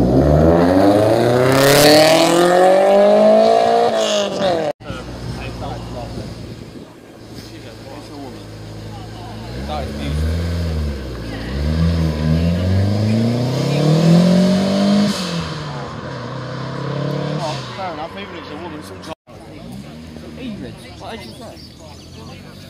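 A turbocharged Ford Focus RS engine revving and accelerating, rising and falling through the gears with loud whooshing pulls, heard from inside the car under ongoing conversation.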